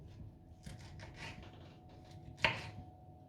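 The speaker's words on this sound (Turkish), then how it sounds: "Bu şekilde ufak ufak çatala gelecek şekilde doğruyoruz." A few soft knife cuts through pineapple on a board, quiet and close, with a sharper chop near the end against a low room hum.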